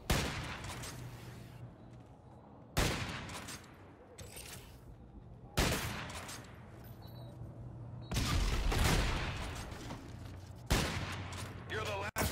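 Shotgun blasts in Call of Duty: Infinite Warfare during a 2v2 match, five heavy booming shots spaced a few seconds apart, each with a sharp onset and a long decaying tail, fairly loud over game background.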